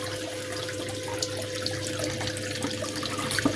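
Water flows through a gold sluice box in a steady, close, splashing gush, with small irregular trickles and drips on top.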